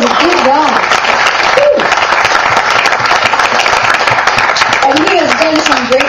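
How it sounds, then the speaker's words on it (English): A congregation at a Seventh-day Adventist camp meeting claps vigorously and loudly, and the applause stays close and steady throughout. Voices and shouts rise over it at the start and the end. "Let's give him a big round of applause."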